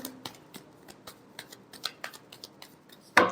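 Tarot cards are shuffled by hand in a quick series of crisp riffling flicks and taps, close and clear, ending in a louder snap as the deck is squared.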